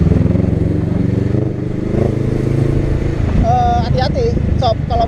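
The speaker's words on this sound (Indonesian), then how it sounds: "Coba kita cobain jalan di tengah untuk menguji seberapa agile-nya Honda Rebel." A Honda Rebel 500 motorcycle rides through city traffic, its engine rumbling steadily and close, while a rider talks over it and a horn or squeal cuts in near the end.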